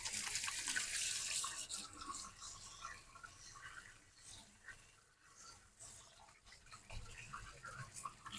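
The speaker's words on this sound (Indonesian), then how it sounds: "Cuci tangan dulu." Water runs steadily from a tap as hands are washed beneath it on a balcony, a continuous hissing splash with small shifts as hands move through the stream.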